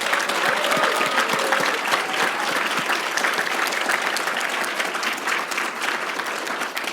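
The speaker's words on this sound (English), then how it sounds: "please join me in a round of applause to all our School of Law graduates" A large graduation audience gives sustained, steady applause for School of Law graduates at a Kente donning ceremony, dense clapping filling the space for several seconds without a break.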